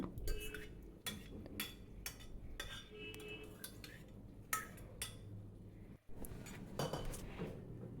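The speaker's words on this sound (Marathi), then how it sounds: "आता याच्यात आपण जे मसूर शिजवून घेतलेले होते कुकरमध्ये ते टाकूया" Cooked whole masoor lentils are tipped from a pressure cooker into a pan over low heat, with repeated clinks and scrapes of a metal spoon against the cookware, close and fairly quiet with no talk.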